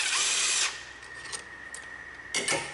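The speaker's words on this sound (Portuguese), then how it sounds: "agora o Roger vai usar a nossa pistola elétrica para acelerar o processo de desmontagem aqui, né?" An electric impact gun spins off bolts on a GM Corsa 1.0 engine during teardown, giving a loud, close whirring burst that stops abruptly, followed by a quieter gap and then a second short burst.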